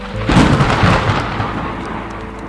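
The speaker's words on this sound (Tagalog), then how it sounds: "biglang bumuhos ang malakas na ulan" Heavy rain pours down steadily as a loud, close rumble of thunder rolls through it, the deep roar swelling early and then slowly fading under the constant wash of rain.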